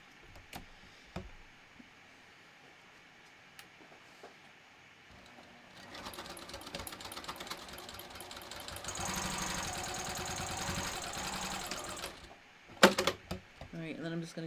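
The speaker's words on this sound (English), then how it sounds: "we're going to top stitch the edges of all of the card slots" A sewing machine top-stitches the edges of a wallet's card slots about 1/8 inch in, with a few quiet ticks before the motor runs in a loud, rapid, steady stitching burst that stops abruptly, followed by brief clatter.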